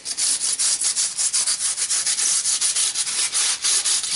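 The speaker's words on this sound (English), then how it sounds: "I'll just rub some of the excess off there." Rubbing and scraping excess material off a cut model stone wall for an OO or HO gauge railway layout, a steady run of rapid, close, fairly loud rasping strokes with no talking.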